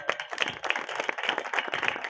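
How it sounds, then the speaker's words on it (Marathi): An audience claps together at a devotional kirtan gathering, a dense burst of quick hand claps for about two seconds. "हा ह्यांच्यासाठी टाळ्या वाजवायच्या."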